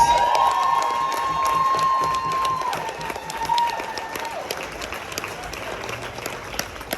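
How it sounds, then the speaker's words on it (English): Applause and cheering from a VIP event crowd on a Las Vegas getaway, a continuous wash of clapping with whoops and shouts, loud and lively throughout, with a high whistle-like tone early on. "So, everybody give Cammie a round of applause"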